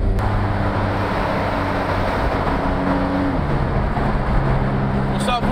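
A Porsche 911 Carrera 4S Cabriolet, 450 hp, driven with the top down, its engine a steady low drone with shifting pitch under constant road and wind noise, loud and continuous.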